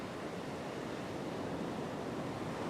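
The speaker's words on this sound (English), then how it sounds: "There's a fair bit of water movement out there." Heavy ocean surf from a big swell crashes on a beach, a constant dense hiss and roar of broken water with no distinct pauses, with some wind buffeting.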